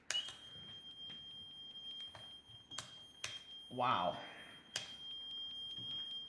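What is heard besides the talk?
Meterman 35XP multimeter audible alarm beeping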